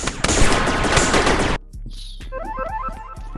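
Rapid gunfire in Rec Room rattles loud and close in a continuous burst, then cuts off, followed by quieter scattered shots and clicks.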